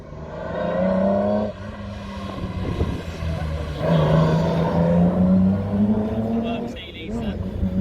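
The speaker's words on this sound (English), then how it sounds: "And here's Thomas up next in the Austin Healey, car from the 1960s" A 1960s Austin Healey race car at the Sandown sprint on the Isle of Wight speed trials, its engine note loud and sustained, rising and falling through gear changes, with a commentator talking over it.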